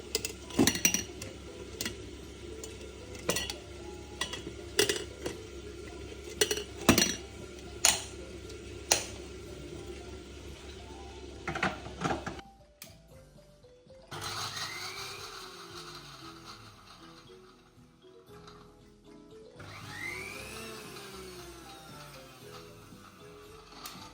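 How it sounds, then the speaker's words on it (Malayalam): Small garlic cloves and ginger being crushed together for a Kerala veloori masala, with a series of sharp clinking, grinding strikes of a pestle for about twelve seconds, then quieter scraping and handling sounds. "ഇനി ഇതെല്ലാം കൂടി ചതച്ച് വെക്കണം."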